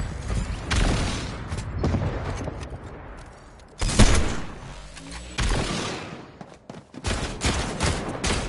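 Video game gunfire rings out in loud bursts of rapid shots, with brief lulls between volleys and a sharp crack near the middle. No one talks.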